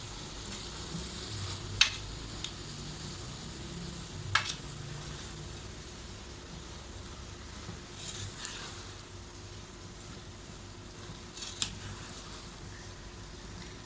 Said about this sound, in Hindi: अब पालक को अच्छी तरह मिक्स करना है।